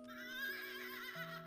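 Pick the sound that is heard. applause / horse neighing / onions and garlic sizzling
horse neighing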